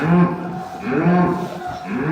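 A calf moos twice, drawn-out and fairly loud, with a third call starting at the end, over light wind noise.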